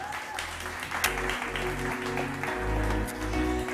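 An audience at a startup summit stage applauds steadily to welcome a panelist, a dense, even wash of clapping with a low thumping undertone beneath it.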